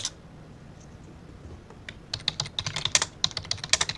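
Fast bursts of computer keyboard typing while writing code, after a quiet start, then crisp, close clicking keystrokes in quick irregular runs, no talk.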